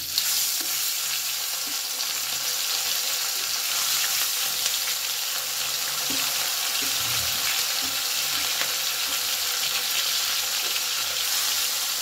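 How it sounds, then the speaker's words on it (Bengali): Parshe fish frying in hot mustard oil in a pan gives a loud, steady, close sizzle that runs unbroken, with a few faint knocks of a utensil beneath it. "তেল গরম হয়ে গেছে, এবারে আমি মাছগুলো ভেজে নেব।"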